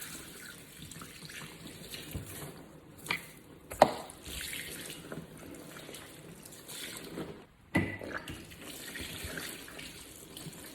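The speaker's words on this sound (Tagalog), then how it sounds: "babanlawan na natin ang pagarna hanggang sa maubos ang mga sabon, hanggang sa luminaw na ang tubig" Tap water runs steadily into a narrow-necked bottle to rinse out soap, giving a continuous splashing and gurgling stream with a few brief knocks and clunks of the bottle, close and fairly quiet, with no talking.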